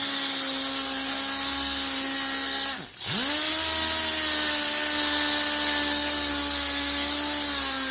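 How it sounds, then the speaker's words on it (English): A power polisher whirs steadily while working polish in, a loud close motor drone that dips briefly as the speed drops and then rises back to a constant pitch, with no one speaking. "Here's my polisher. Just going to polish away."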